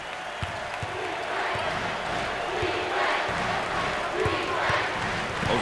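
Medium-sized home crowd in an arena at a college basketball game, Rice at Houston, a steady murmur broken by faint sneaker squeaks and ball bounces, with a commentator talking over it.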